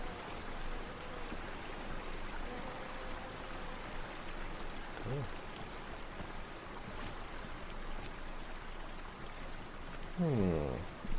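A steady broadband wash of falling water from a waterfall beside a lake in the video game Everybody's Gone to the Rapture, continuous and even throughout, with a brief voice near the end.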